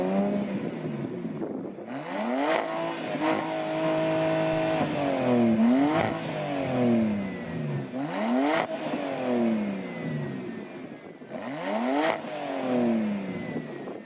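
A full bolt-on BMW 335i engine revs up repeatedly, climbing sharply several times then dropping back to idle, loud and close with no talking.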